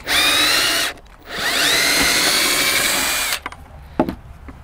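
Power drill unscrewing screws during demolition work, two loud close whirring bursts with a rising pitch as the motor spins up, followed by clanks and rattles of parts being handled.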